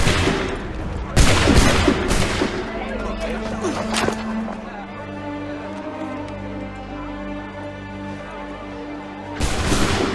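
Musket volley in an Assassin's Creed III cutscene, a loud sharp crackling burst of many shots at once, followed by ringing echoes and tense musical tones, with a second burst of fire near the end.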